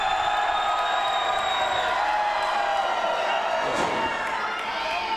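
A wrestling crowd at a Duke City Championship Wrestling show cheers and roars in a continuous, dense wash of noise, with a sharp burst of excitement near the end and a commentator talking over it.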